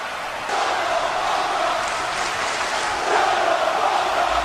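A wrestling crowd boos in a steady, swelling roar that fills the arena, growing louder partway through and holding without a break.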